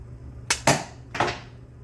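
A budget coilgun pistol fired at thick cardboard boxes from a little further range, producing sharp, close snaps: a quick double crack followed by a single crack with an impact.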